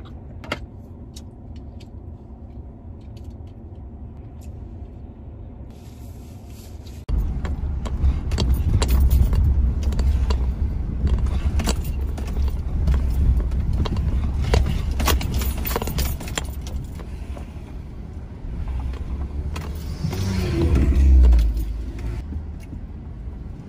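A car rattles over a bumpy, harsh road, a steady rumbling drive with repeated thumps and jolts, low road noise building louder partway through.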